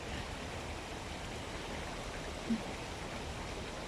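Water flows steadily along the concrete-walled, concrete-bedded Hacı Ahmet stream in Balçova, a constant even rushing heard nearby with no other sounds.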